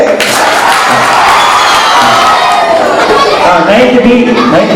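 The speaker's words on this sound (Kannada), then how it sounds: "8ನೇ ಕ್ಲಾಸಲ್ಲಿ 9ನೇ ಕ್ಲಾಸ್ನ ಪರವಾಗಿ ಧನ್ಯ ಮತ್ತು ಹರ್ಷಿತಾ ಅವರು ಚಪ್ಪಾಳೆ" Schoolchildren at a school farewell for a retiring teacher clap and cheer together, a loud, dense crowd of applause with shouts mixed in throughout.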